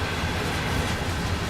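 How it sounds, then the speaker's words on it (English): A mile-long freight train rolls on the Cheyenne to Laramie route in Train Sim World 6, giving a steady, dense rumble of wheels and rail noise that stays even throughout with no talking. "As you can see, this train is a mile long, at least."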